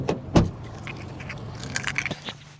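Car keys for a VW Golf GTI jangle close up in a few short bursts and rattles, with a faint low hum underneath and no talking.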